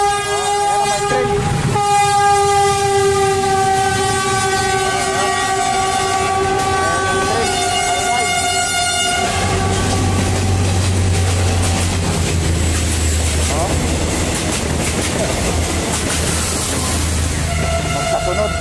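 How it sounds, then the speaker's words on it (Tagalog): Train passing beside the Osmeña Highway, its horn blaring in long sustained tones for about nine seconds before giving way to the rumble and clatter of the cars rolling by, loud and close; no one speaks over it. "Ayan na may train."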